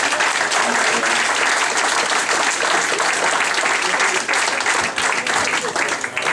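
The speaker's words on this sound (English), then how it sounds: "So let's have a round of applause." Sustained audience applause fills a room at a football club awards night in Larne, dense and even clapping from a large crowd that carries on throughout.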